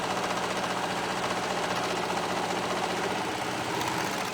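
A sewing machine stitches a stretched cuff onto a sweater sleeve, giving a continuous, close, rapid mechanical whir with a fast steady pulse throughout.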